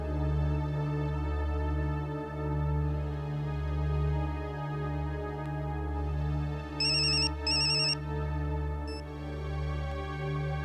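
A telephone rings in a Hindi CID crime drama scene set in a restaurant: two short, bright ring bursts come midway over a steady low background drone.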